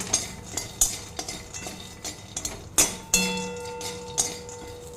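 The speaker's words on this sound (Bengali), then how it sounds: "ওই কড়াইয়ে কিছুটা বাদাম দিয়ে শুকনো খোলায় ভেজে নেব।" Peanuts are dry-roasted in an empty wok with no oil, giving faint, intermittent sharp clicks and rattles as they are tossed against the metal.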